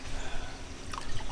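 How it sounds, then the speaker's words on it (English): Water poured into a cold brew jar, a steady splashing trickle with a few drips, close and continuous for about a second and a half. "I'm actually going to add a little bit more water to this."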